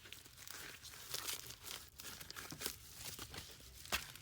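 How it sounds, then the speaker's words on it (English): An item backed with stiff cardboard slides into a shipping envelope, giving close crinkling and rustling with a few sharper papery crunches, with no talk. "I'm just gonna put it in the envelope."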